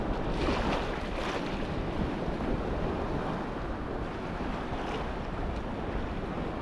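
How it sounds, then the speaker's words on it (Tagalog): Sea waves slap against a small fishing boat out on open water, a steady loud wash of surf and spray with wind buffeting the microphone throughout, no voices. "Habang hinahampas tayo ng alon eh"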